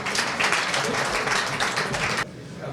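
An audience at a mushaira applauds with dense, steady clapping for about two seconds before it cuts off abruptly into a quieter room.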